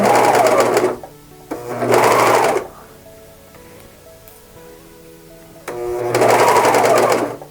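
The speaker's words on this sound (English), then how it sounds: "then kind of just pull it a little bit back as you're sewing" A sewing machine stitching a blind hem on a sweater, three bursts of rapid whirring needle action about a second long each, close and loud, separated by quiet pauses with soft handling ticks.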